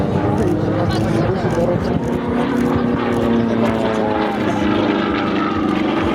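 An aerobatic propeller airplane at an air show picnic climbs vertically while rolling, its steady engine drone loud and continuous throughout, with a commentator talking over it.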